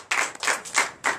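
A church congregation at a Sunday service in Benin claps in short, loud bursts, four or so quick rounds of hand clapping close by with brief pauses between.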